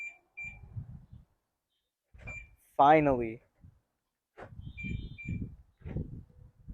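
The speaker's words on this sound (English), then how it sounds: "Oh, it beeps now." A short electronic chirp from an OEM alarm on a 2008 BMW 128i sounds as the doors lock, with a few brief beeps and people talking before and after.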